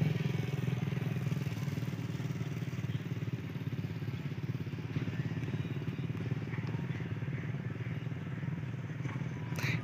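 AGE 30 6026 diesel locomotive idling at Multan Loco Shed with throttle notches applied, a steady loud low rumble with fast rhythmic clatter throughout and faint talk underneath.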